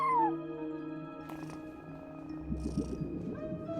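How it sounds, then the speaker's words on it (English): A cat meows from the front desk inside the video game Genshin Impact, a short gliding cry at the very start over steady game music, with more faint game sounds later. "No one except for a cat watching over the front desk."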